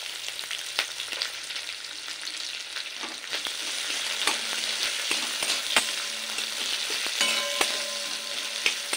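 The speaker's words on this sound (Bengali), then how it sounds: "পেঁয়াজটা একটু লাল করে ভেজে নেব।" Chopped onion sizzles in hot oil tempered with black mustard seed and a dried red chili, a dense, steady crackle up close with occasional stirring scrapes and no voices.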